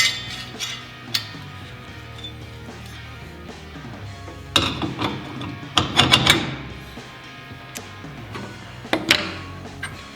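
Metal dado blades for a SawStop table saw clink and tick as they are handled and set in place, with a sparse run of small knocks and a few sharper metallic clatters in the middle and near the end, close and fairly quiet.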